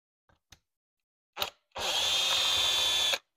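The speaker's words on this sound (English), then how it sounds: "Get all four screws out." A power drill backs screws out of a 33 mm alcohol carburetor on a junior dragster, first with a few brief bursts, then with one long steady whir at close range.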